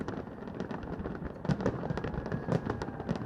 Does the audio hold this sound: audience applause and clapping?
no